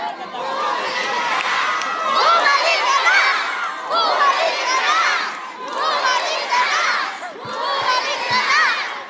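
A large crowd at a political caucus in Baseco, Manila, shouting and cheering in loud surging waves with brief pauses between bursts, dense and close.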